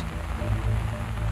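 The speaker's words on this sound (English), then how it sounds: "the rain gets heavier, lashing down with anger" Heavy rain lashes down in an African wildlife park, a brief, steady roar of close, dense rainfall with no voices.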